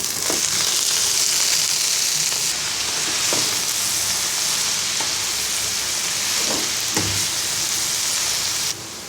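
Red amaranth greens hit onions frying in oil with a loud, close sizzle broken by a few stirring clatters. The hiss drops in strength as the greens go in and settles near the end.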